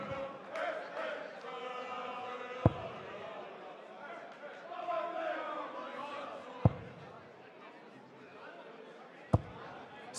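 A darts arena crowd in Düsseldorf fills the background with a continuous hum of chatter and cheering beneath a commentator's voice, broken by a few sharp thuds.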